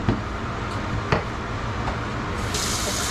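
Water hisses and sputters as it is poured into a hot pan of cooking steak, a continuous loud sizzle with a few sharp pops, the spray brightening near the end.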